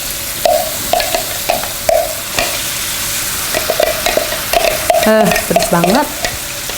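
Ingredients being sautéed in hot oil for soft-bone grilled chicken with kecombrang sambal, with repeated sharp stirring scrapes over a steady sizzle and a short spoken remark near the end.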